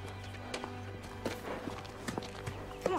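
Horse hooves clop irregularly on a hard surface nearby, a handful of uneven steps over a steady low hum.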